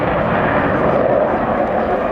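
An RAF Eurofighter Typhoon fighter jet flying a solo display at the 2015 Yeovilton Air Day produces a loud, sustained engine roar through an outside barrel roll, with a voice talking over it.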